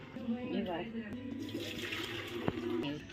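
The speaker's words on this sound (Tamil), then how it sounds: "இப்போ தண்ணி வடிச்சாச்சு" Water from boiled noodles pours steadily out of a pot into a drain, a continuous close splashing rush with a brief clink partway through and faint voices in the background.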